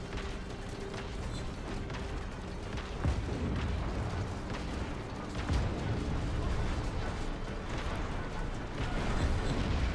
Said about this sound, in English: Let's just ignore all the gunfire nearby